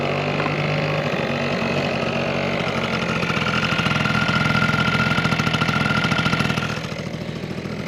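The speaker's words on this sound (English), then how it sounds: "So let's start it. So Ivan, show us how to start the bike." A Quadzilla Buzz 50cc kids' quad bike engine idles steadily and close by, with a rapid pulsing putter that swells slightly midway before settling lower near the end.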